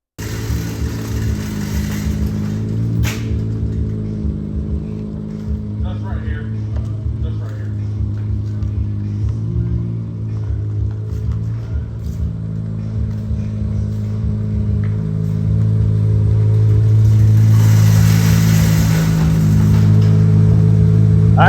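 Chevrolet Corvette C8 Z06 engine idling and rumbling at a tuning shop ahead of a dyno baseline run, a steady loud low drone that swells toward the end, with the engine note running continuously throughout.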